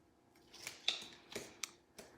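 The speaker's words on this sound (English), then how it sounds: "your little scissor snips here, perfect for helping to just grab up that little edge there" Several quiet, sharp snips of small paper-craft scissors trimming card stock, spaced irregularly, close by in a quiet room.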